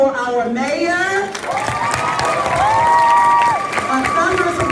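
Students at a middle school assembly clap and cheer loudly for the visiting mayor, with high shouts and whoops riding over continuous applause.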